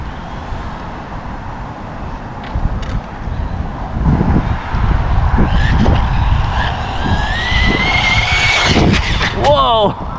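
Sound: RC car on 3S LiPo spinning out

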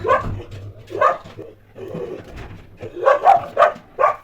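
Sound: dog barking, frightened by an arriving car

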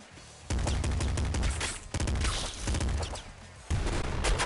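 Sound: grenade launcher firing in video game Nuclear Throne

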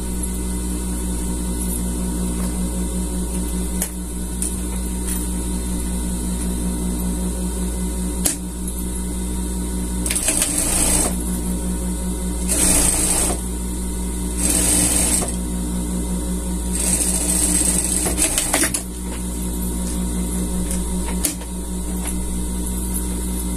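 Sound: sewing machine stitching a hem

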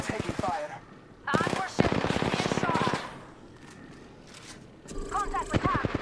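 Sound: gunfire in Apex Legends video game

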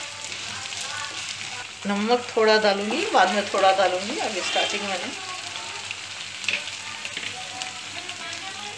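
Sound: ginger and garlic frying in a pan

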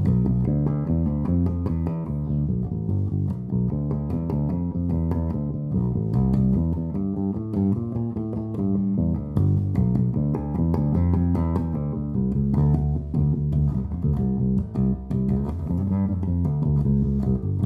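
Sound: Thunderbird bass guitar played through Hartke LH1000 amp

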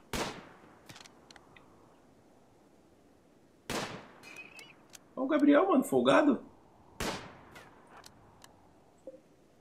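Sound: gunfire in the video game Rimworld

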